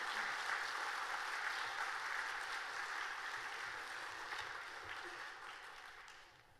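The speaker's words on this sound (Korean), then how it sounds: "우리 목사님 나오실 때 우리 환영하는 마음으로 박수로 맞이하겠습니다." A church congregation in Korea applauds as the pastor comes forward during a Sunday service, soft steady clapping that fills the room and slowly fades.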